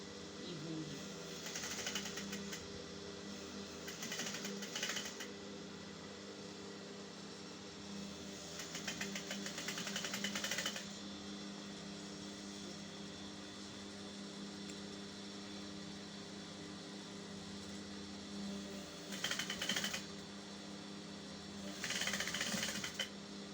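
A sewing machine stitches a gathered dress skirt onto the bodice along the hem side, its steady motor hum running continuously with brief louder bursts of faster stitching, close and moderately loud, with no talk.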